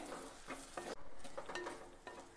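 Turmeric and chili powder frying in a pan, a soft continuous sizzle with stirring scrapes of a utensil, close and fairly quiet, no voices.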